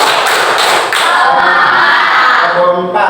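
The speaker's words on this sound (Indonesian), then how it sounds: "Kita lakukan tepuk semangat." A class of sixth-grade pupils at an elementary school performs a rhythmic spirit clap, producing dense, loud, overlapping clapping from many hands in a busy classroom, with some voices mixed in.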